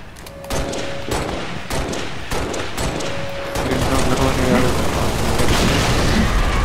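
Assault rifle gunfire in Halo Reach: dense, loud bursts of rapid automatic shots with booming impacts, growing into a sustained chaotic barrage toward the end.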